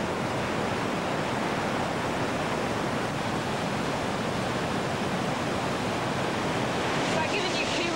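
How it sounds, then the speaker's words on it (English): A raging river in New Zealand, its rushing water a steady, loud, unbroken roar filling the whole stretch with no pauses. "Wow, that river's really raging"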